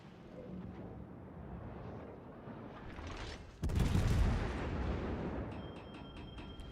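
Secondary battery guns of a warship firing in World of Warships: Legends, a rumbling barrage with a sharp heavier blast midway followed by continued booming and faint interface beeps, no talk.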